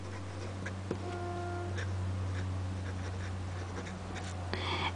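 Nib of a Baoer 388 fountain pen, slightly scratchy, dragging across paper in close, faint, continuous strokes with a few light ticks, set against a steady low hum.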